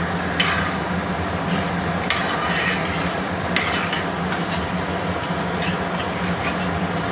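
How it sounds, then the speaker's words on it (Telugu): Urad dal and cumin seeds fry in a pan for a tomato pickle, giving a steady hiss and sizzle with a few sharp scrapes of a spoon stirring, and no talking. "1 స్పూను మినపప్పు, 1 టేబుల్ స్పూను జీలకర్ర. ఇదంతా వేగాలి."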